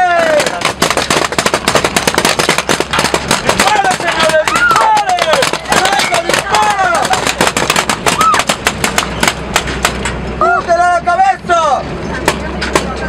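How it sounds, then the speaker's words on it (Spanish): Rapid gunfire from a zombie shooting game plays loudly and continuously, with dense bursts of shots under excited shouting and talking from players. "Dispararle a todos los zombies."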